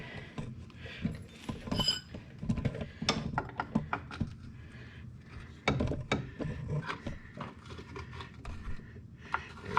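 Metallic clicks, ratcheting and scraping sounds come from wrench work while a brake line is removed on an MK3 Supra during a front brake upgrade, with irregular close taps and rubs against a quiet background.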